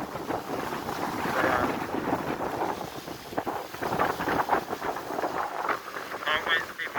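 Warm wind blowing outdoors on Fuerteventura in the Canary Islands, rushing steadily and buffeting a nearby microphone throughout, with someone speaking briefly over it.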